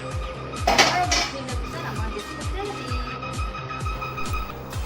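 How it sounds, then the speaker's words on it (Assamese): A metal lid clatters onto a wok with a brief bright clang, followed by a steady series of soft rhythmic ticks and low hum. "কেৰাহীটো গৰম হোৱাৰ পিছত এইটো তাৰ ওপৰত টাইটছে ঢাকনি মাৰি দিম।"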